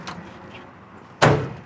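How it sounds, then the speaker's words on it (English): A car door on a 1969 Oldsmobile Cutlass convertible shuts once with a solid, close thunk near the end, after a quiet stretch of faint room noise. "Door shut all the way."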